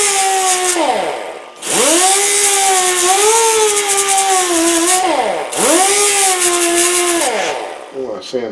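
Sandpaper rubbing paint off a metal part for a good electrical connection, a steady rasping scrape in long strokes with two brief pauses, close and fairly loud, with no talk over it.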